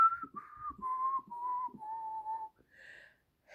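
A person whistles a street boys' song from Helsinki's Sörkka district, a clear solo line of held notes stepping downward, then a brief higher phrase after a pause.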